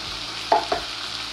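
A spoon stirs a pot of vegan potato stew with carrots, peas and tomato, making two quick scraping clunks over a low steady background hiss, with no speech.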